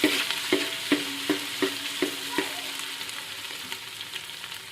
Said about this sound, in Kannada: ಎಲ್ಲ ಮಸಾಲೆಗಳು ಎಣ್ಣೆಗೆ ಫ್ರೈ ಮಾಡ್ಕೊತೀನಿ ರೀ ಮೊದಲ